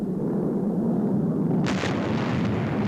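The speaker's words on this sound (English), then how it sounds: "It blew up, sir. The XL18 blew up." A distant rumbling blast erupts after a low steady roar, with a sharp burst followed by a lingering noisy decay.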